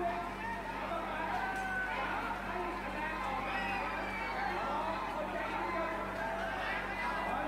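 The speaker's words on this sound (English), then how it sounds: "Oh, very loud. There's a lot of cheering going on." Loud, steady roar of a stadium crowd cheering at a Muay Thai fight, continuous dense babble and shouting throughout with no breaks, close and enveloping.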